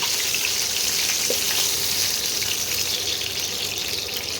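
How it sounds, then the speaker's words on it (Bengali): Eggs frying in hot oil, a continuous close crackle and sizzle holding steady throughout with no voices. "ডিমগুলোকে অল্প করে একটু ভেজে নেব।"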